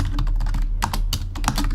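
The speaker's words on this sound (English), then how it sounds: "is that too loud with the typing? This is like a wireless keyboard, and it's not like on the laptop." Keys clatter on a wireless computer keyboard in quick, uneven bursts of close crisp taps, with a brief pause midway and no voices.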